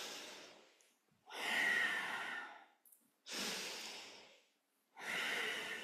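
Deep, slow breaths during a seated kundalini yoga Sufi grind holding the knees: long audible inhales and exhales alternating in a steady rhythm, close and breathy with short pauses between.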